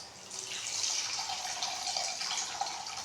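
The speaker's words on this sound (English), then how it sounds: "So you have to pour some water also." Water is poured in a steady stream, a continuous close splashing trickle with faint drips, alone without talk.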